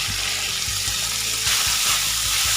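Cabbage, potato, tomato, onion and green chilli fry in a pan for masala macaroni, with a steady hiss and sizzle, some watery sputter and a repeated low knocking as the pan is stirred, close and without talk.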